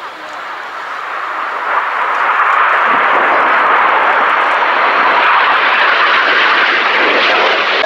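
Royal Air Force aerobatic jets rolling over an airshow at Fairford make a broad, steady jet roar that swells over the first two seconds and then holds loud and continuous.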